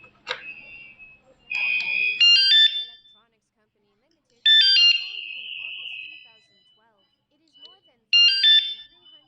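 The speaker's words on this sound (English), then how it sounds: "If you hear three beeps, it means the batteries are good quality and the alarm are in normal state." A wireless vibration-sensor bicycle alarm sounds three separate electronic beep bursts, each a bright warbling chirp sequence, spaced several seconds apart with silence between them.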